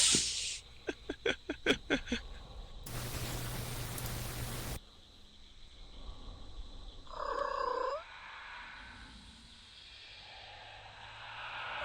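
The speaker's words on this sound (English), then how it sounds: "here goes the cat sounds again." A cat purrs and meows amid a few sharp clicks and a burst of hissing noise, fairly close and moderately loud.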